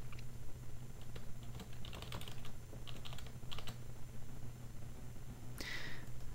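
Typing on a computer keyboard while entering an FTP username during a Joomla 1.5 install: a steady run of close, quick key clicks with a few brief pauses, no talking.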